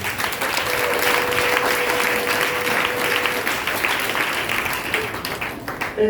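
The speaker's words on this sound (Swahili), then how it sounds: "Pigia Mungu makofi makubwa." A church congregation claps loudly and continuously for God after a service blessing a newborn child, a dense roar of hands that fades slightly near the end.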